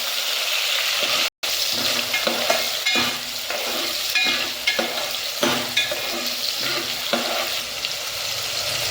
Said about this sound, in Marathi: कांदा भाजल्यानंतर त्यामध्ये टोमॅटो टाकू। टोमॅटो कांदा मिक्स करून घेऊ।